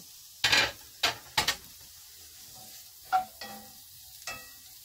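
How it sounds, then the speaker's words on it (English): Onions cook in a Lodge cast iron Dutch oven, with several sharp stirring scrapes and clanks over a faint background sizzle, close and otherwise quiet. "So we're going to let those onions cook just a little bit."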